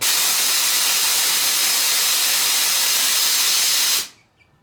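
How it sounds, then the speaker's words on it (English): Compressed air rushes out of an air compressor in a loud, steady hiss that holds for about four seconds and then cuts off abruptly, leaving near silence. "I'm letting all the air out of this compressor"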